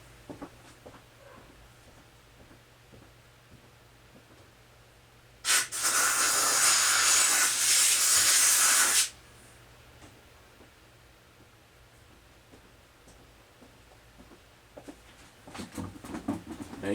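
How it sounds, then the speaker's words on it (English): A burst of brake cleaner or compressed air hisses steadily for about three seconds in the spark plug threads of a Homelite XL-2 chainsaw under repair, loud and close against a quiet background. Faint ticks and handling noises follow. "going to hit it with some brake clean. And then hit it with a little more air."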